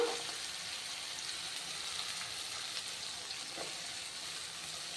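Cut turkey berries frying in a pan with sautéed onion, tomato and chana dal for a thokku, a steady soft sizzle running throughout at moderate level with no talk.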